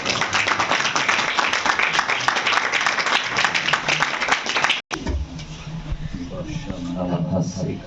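An audience at a church healing ministry's anniversary service claps to welcome a speaker, a quick, loud, rhythmic run of handclaps that stops suddenly and gives way to a voice talking over a noisy room.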